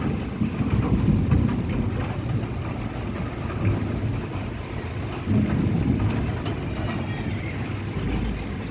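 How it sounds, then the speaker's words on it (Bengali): Rain falls steadily outdoors while low thunder rumbles roll in and swell twice, a dense constant wash with no one speaking. "আকাশের গর্জন শুনতে পাচ্ছেন বন্ধুরা, মেঘ ডাকছে"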